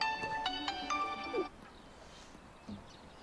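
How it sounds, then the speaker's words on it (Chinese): A phone ringtone plays a short repeating electronic melody for about a second and a half, fairly faint, then stops and leaves quiet room tone with a soft voice-like sound. "接个电话啊。"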